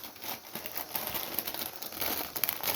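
Indomie instant noodle packets are torn open and handled, producing a continuous close plastic crinkling and rustling with a few brief tearing bursts, fairly quiet and alone.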